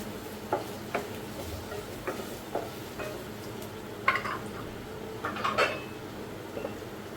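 Onions sautéing in a pan for a home-style egg kulambu, with quiet intermittent scrapes and spoon taps against the metal over a low sizzle, a few louder clinks near the end.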